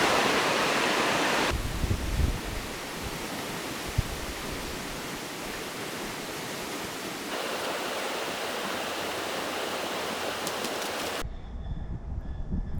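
Steady, broadband rushing of Riley Creek flowing nearby in Denali National Park, Alaska, loud and constant with no voices, cutting off abruptly near the end.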